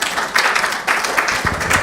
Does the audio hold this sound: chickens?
no